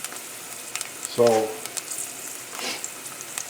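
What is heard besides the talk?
garlic frying and sizzling in pan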